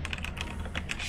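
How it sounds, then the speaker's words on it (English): Rapid typing on a computer keyboard close to the microphone, a quick irregular run of key clicks with a low hum underneath. "Apologies if you hear me typing here."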